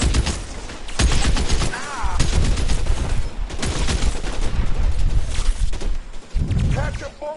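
Rapid bursts of gunfire in the video game L.A. Noire: loud, dense volleys of shots across the whole stretch, with shouting voices mixed in at points.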